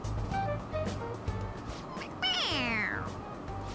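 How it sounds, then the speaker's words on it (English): Toy cat in the video game Persona 5 Royal meows when pressed on the head, a single drawn-out, rising-then-falling meow over steady game background music and effects. "It meows when you press on its head."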